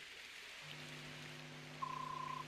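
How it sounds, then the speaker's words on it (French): Steady soft rain hiss falls in the Fire Emblem: Path of Radiance video game, a constant wash under low sustained musical tones, with a brief high beep-like tone near the end. "il pleut"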